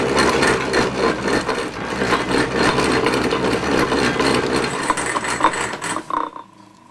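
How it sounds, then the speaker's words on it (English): A hand-cranked Lynx 160 alternator spun by hand with single-phase chatter, giving a close, continuous rasping and whirring mechanical buzz that pulses with each turn, then cuts off abruptly near the end. "You can hear a little bit of the single phase chatter."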